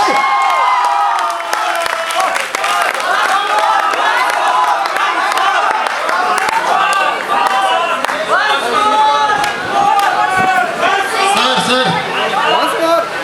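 A packed student crowd at a college fresher event cheers, whoops and claps loudly for a performer, a continuous roar of shouting voices with applause mixed in, an announcer's voice talking over it.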